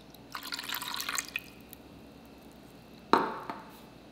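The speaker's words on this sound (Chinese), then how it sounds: "用刮刀将葛粉轻轻的拌开" Kudzu starch being stirred into water with a spatula, a quiet wet swishing and light dripping in the first second or so, then a single sharp close clack of the spatula against the bowl.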